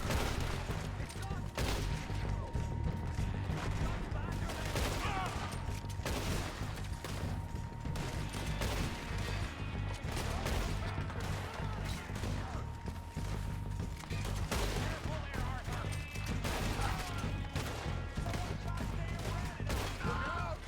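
Gunfire in a cowboy-themed shooter game, repeated sharp shots over a constant dense game soundscape, with irregular bursts across the stretch and voices talking now and then.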